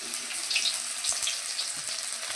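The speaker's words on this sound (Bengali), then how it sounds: "আর এখন বিনস, গাজর, ক্যাপসিকাম ভেজে নিচ্ছি" Beans, carrot and capsicum frying in a pan, a steady soft crackling sizzle running evenly throughout with a few faint clicks, no voices.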